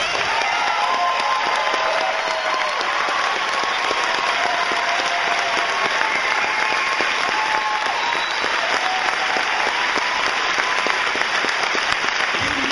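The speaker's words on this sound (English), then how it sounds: "can you just please take a stand and get a round of applause?" A large crowd at a political event gives a standing ovation, applauding steadily and loudly throughout, a dense, continuous wash of clapping with no break.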